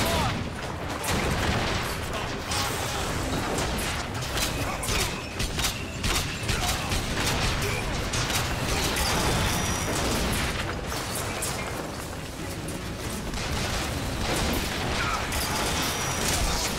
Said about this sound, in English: I mean, come on, this is a grenade launcher.